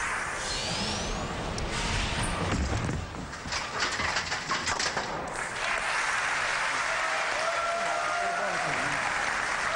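Crowd applause fills a bowling arena at a PBA championship, a broad sustained roar of clapping that dips briefly midway then swells again, with faint commentary voices underneath.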